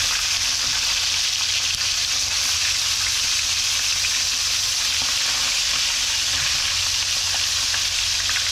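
Fish from spearfishing sizzles steadily in hot oil, a constant crackling hiss close up, with no talking over it.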